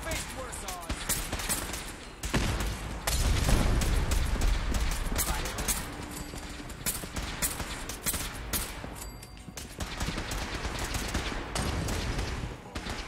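Rapid, dense gunfire from the video game Fallout 4, heavily modded and played on survival difficulty. Loud, sustained bursts continue almost without pause, with deep booming thuds under the shots and a voice talking over the shooting.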